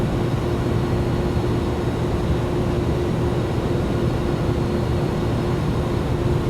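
Airbus A310 airliner in Microsoft Flight Simulator gives a constant, loud engine and cabin drone with a steady tone, unbroken throughout the flight.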